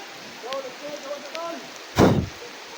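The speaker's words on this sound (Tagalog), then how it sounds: "Grabe yung ulan tol." Heavy rain pours down in a steady soft hiss, broken by one loud splashing thump near the end, with faint voices in the background.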